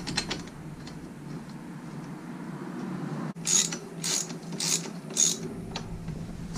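Ratchet wrench snugging down swing arm bolts on a GY6 scooter during a rear tire change, giving a few quick clicking bursts close by after a stretch of quiet workshop hum.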